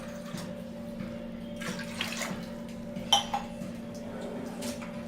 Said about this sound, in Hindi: मैं इधर 2 कप पानी ऐड कर रही हूँ